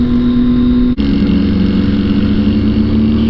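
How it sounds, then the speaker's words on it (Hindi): BMW S1000R motorcycle engine running loud and close on a highway ride, a strong steady mechanical drone with a brief dip near the first second before the revs pick back up and hold. "that is Ubaid on his amazing BMW S1000R"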